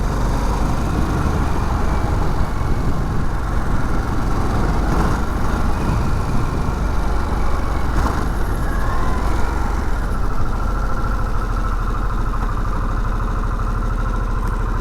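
A 2021 Harley-Davidson Sportster S engine accelerating through the gears, heard as a loud, continuous engine drone with wind rush, close up and steady for the whole stretch, with no talk.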